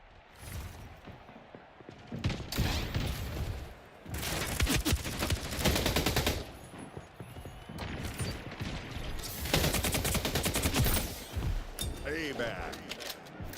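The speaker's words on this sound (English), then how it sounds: "Love machine guns, man." Machine gun fire in the shooter game Splitgate 2, rapid bursts of automatic gunfire in several long volleys with brief gaps, loud and dense, along with other game mechanisms.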